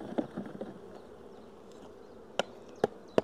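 Honey bees swarm over a built hive frame in a steady, close drone, with a few sharp taps and knocks heard through the buzzing.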